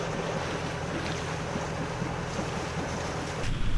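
Wind and waves on a sailboat at sea off the Algarve coast with the mainsail up, a steady broadband rush of wind and water that swells louder near the end as the boat rocks.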